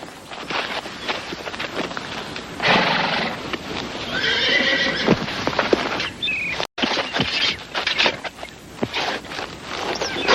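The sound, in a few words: horse neighing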